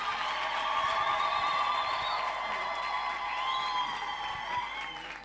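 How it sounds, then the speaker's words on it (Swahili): A church congregation claps for the Lord in sustained, dense applause, loud and steady throughout, with scattered cheers and whoops over it, then fading slightly at the end. "Pigieni Bwana makofi zaidi ya hapo"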